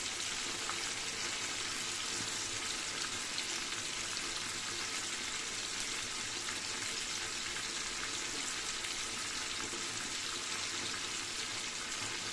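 Ingredients for chicken rice sauté in a pan with a continuous, dense sizzle that stays loud and even throughout, with no voices over it.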